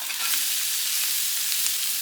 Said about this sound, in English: We got little lax on that one while we watched them sizzle.